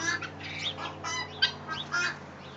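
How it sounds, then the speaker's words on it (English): A small wild bird calls repeatedly in a backyard farm setting, sounding as a series of chirps and squawky notes close by over a low steady hum. "There's a little outside bird thinking about hanging around."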